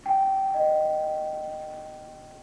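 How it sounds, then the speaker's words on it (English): A two-tone ding-dong doorbell rings once indoors, a clear chime followed by a lower tone that lingers and slowly fades, with no talk. "if the doorbell rings"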